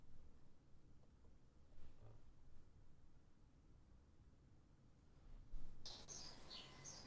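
Faint birds chirp in the background of an online voice call, small tweets scattered through a steady hiss and growing clearer near the end, with no one speaking.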